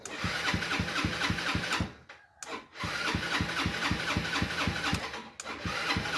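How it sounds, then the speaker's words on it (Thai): A motorcycle engine with slow cranking speed cranks over and over in a rapid, even chugging rhythm, pausing briefly twice, never catching and firing up. "เช้ามาก็จะสตาร์ทไม่ติดนะครับ สตาร์ทยากสตาร์ทนานนะครับ"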